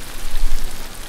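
Steady rain hisses evenly across the whole moment, a dense wash of drops with no voices or other sounds.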